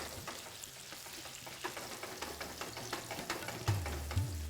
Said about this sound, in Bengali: মোটামুটি 7 থেকে 8 মিনিট লেগে যাবে ধরে নিন এই আলুটাকে ভেজে নিতে।